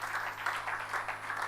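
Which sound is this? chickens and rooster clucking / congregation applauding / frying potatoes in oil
congregation applauding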